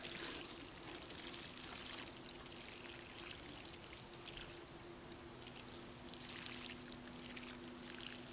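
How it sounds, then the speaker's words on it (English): Water pours steadily from a can onto the soil of a freshly planted hanging basket, a soft continuous splashing stream heard close and fairly faint, with no talk. "All I've got to do now is give it a good watering."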